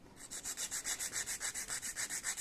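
A nail file rubs back and forth across an artificial nail tip in quick, even strokes, about six per second, close and clear, with no voices.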